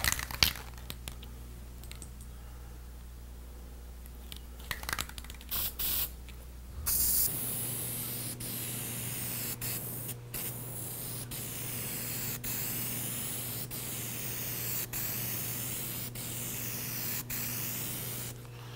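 Plasti Dip sprayed through a dip nozzle gives a continuous, even hiss after a stretch of handling noises, with short breaks between passes, close and steady.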